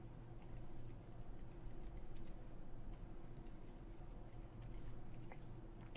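Someone types a password on a computer keyboard during a macOS setup, a soft run of quick key taps, faint and close, with no talk.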